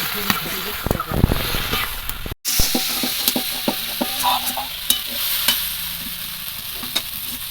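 Jackfruit curry with potatoes is stir-fried in a pan after a splash of spice-paste water goes in, giving a close sizzle and bubbling with repeated sharp spatula scrapes and clinks, a brief dropout midway, and a voice talking at times.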